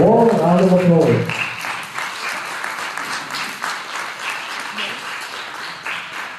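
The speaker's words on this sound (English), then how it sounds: "let's give them a warm round of applause" An audience breaks into applause, a dense, steady wash of clapping that carries on for several seconds at even loudness, following a voice that speaks briefly at the start.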